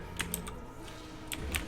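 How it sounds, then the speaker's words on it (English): Quick clicky taps on a computer keyboard, a few sharp keystrokes at the start and end with a quiet pause between, close but faint. "I don't mind the sound of my keyboard"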